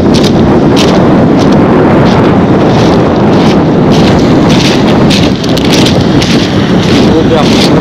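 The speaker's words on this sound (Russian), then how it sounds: "Солнце светит, но сильный ветерок." Strong wind on the seafront at Lazarevskoye, Sochi, roars continuously against the microphone, a dense low rumble with brief gust peaks, loud and unbroken throughout.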